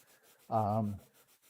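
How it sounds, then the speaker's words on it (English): Wood is hand-sanded with 150 grit sandpaper in a single short, close rubbing stroke that stands out against a quiet background. "Just hand sanding to 150 is all I'm going to do here."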